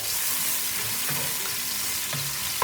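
Turkey bacon frying in melted duck fat in a pan, a steady, fairly loud sizzling hiss with scattered small crackles and a soft clunk or two.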